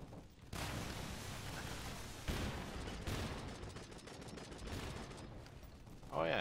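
Enemies open fire in the video game AFF during Patch 4 gameplay. Continuous, dense gunfire rattles and crackles at close range, dips briefly, and builds again throughout.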